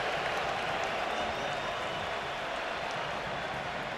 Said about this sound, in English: Crowd playing their part today with their reaction here, letting the Germany side know what they thought of that effort.